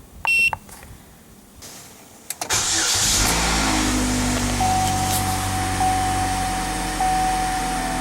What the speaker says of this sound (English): then we'll start the engine here in a second